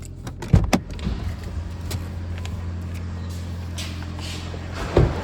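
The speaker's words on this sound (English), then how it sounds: "You've got electronically adjustable windows as well" Power window motor on a 2019 Toyota Yaris Excel 1.5 hybrid hums steadily for about four seconds inside the car, bracketed by a soft clunk as it starts and a thud as the glass stops.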